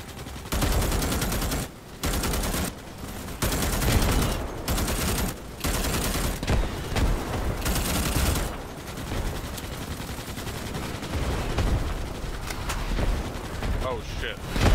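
Chaotic rocket fire and explosions from the video game Starship Troopers: Extermination erupt in loud, heavy bursts broken by brief silent gaps, then settle into a continuous roaring barrage.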